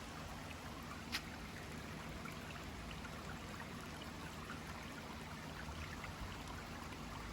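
A forest stream in rural Tennessee babbles gently and continuously, a soft even rush of flowing water heard from a short distance, faint and unbroken.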